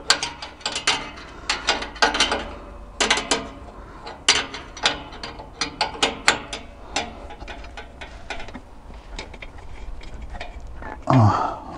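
A ratchet clicks in repeated short bursts while tightening an exhaust pressure sensor on a HEMI engine, close and crisp, with brief pauses between strokes and a faint clunk near the end.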